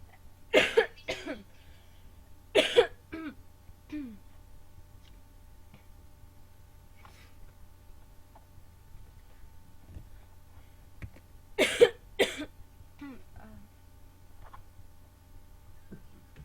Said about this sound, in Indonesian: Maaf ya kalau saya ada agak suara batuk